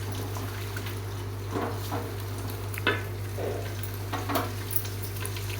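Egg stirred and frying in a pan while cooking pasta, giving a steady low sizzle with a few soft scraping stir strokes at irregular intervals, close and moderately quiet, no talking.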